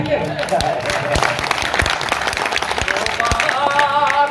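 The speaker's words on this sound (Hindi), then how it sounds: "तालियां बजाइए।" Audience at an Indian Urdu poetry mushaira clapping, loud and close with sharp individual claps standing out, while voices talk and murmur over the applause.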